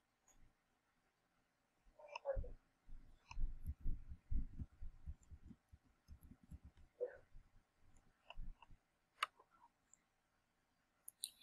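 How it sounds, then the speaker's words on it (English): Quiet, irregular clicks of a computer keyboard being typed on, coming in short bursts separated by pauses, soft and close in an otherwise still room. "I am typing in this class."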